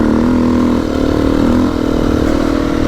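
A motorcycle engine revs hard at high power while riding across loose desert sand. The note is steady, loud and close throughout, with a brief dip in pitch partway through.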